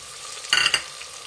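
Fresh green peas dropped into a hot pan after fried onions and garlic for bread pulao: a brief, sharp sizzling crackle that flares for a fraction of a second and fades back to quiet.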